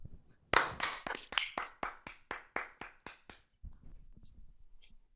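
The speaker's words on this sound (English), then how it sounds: "Sean, clap it up?" A single person claps about a dozen times in a quick even rhythm, each clap sharp, close and distinct, then a softer shuffle follows.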